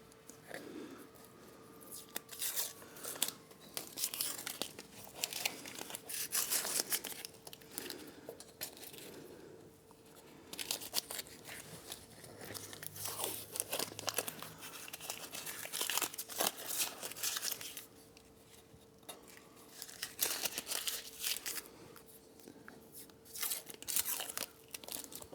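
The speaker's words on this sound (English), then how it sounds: "I want to get the tape off the swing arm." Tape being peeled and pulled off a 2024 Triumph motorcycle swing arm, intermittent crinkling and tearing bursts up close, separated by quieter pauses.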